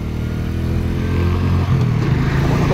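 A vehicle being driven steadily along a road, its mid-pitched engine humming continuously and loud throughout with a low rumble and road noise, no voices.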